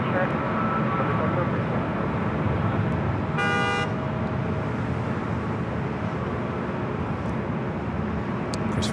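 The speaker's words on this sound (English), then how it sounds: "we hear plenty of honks, all kind of drama here on top of the parking garage" A car horn sounds briefly around the middle, a clear harmonic toot over steady traffic and aircraft rumble on top of a parking garage at Los Angeles LAX airport.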